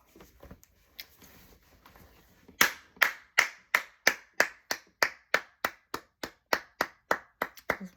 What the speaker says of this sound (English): Just want to give you a round of applause.